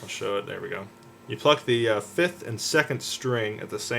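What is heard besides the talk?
No everyday noises stand out.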